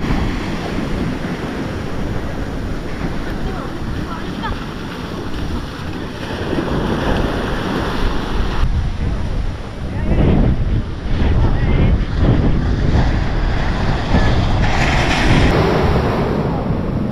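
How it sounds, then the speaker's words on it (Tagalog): Strong waves breaking on a shore in heavy wind after rain, a loud continuous roar of surf with wind buffeting the microphone, surging louder in the second half. "Sa oras na to, lumakas na yung alon mga kapanalig"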